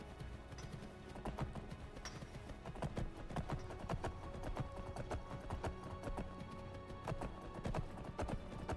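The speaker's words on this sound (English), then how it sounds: "We stole the spectral horse." Rapid rhythmic hoofbeats of a galloping spectral horse in Skyrim, loud and steady throughout, with a whinny breaking in near the start.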